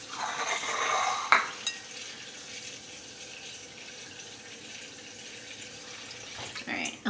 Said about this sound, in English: I'm gonna get a bowl, fill it with water. I usually do it with cold water.